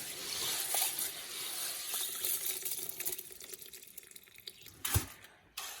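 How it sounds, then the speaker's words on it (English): Hemp seed particles being rinsed and drained, with water splashing and trickling steadily at close range, a few louder splashes and clatters near the end, no talking. "I also wash it off, and I also drain it to make sure that they are clean and ready to be soaked."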